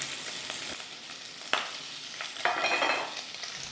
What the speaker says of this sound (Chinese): 那现在我们就稍微把这个火调大一点点，然后翻炒